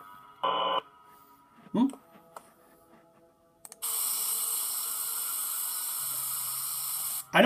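An air freshener spray in the Five Nights at Spy's horror video game gives a long, loud, steady hiss of about three and a half seconds. Short tonal beeps and a few soft knocks come before it.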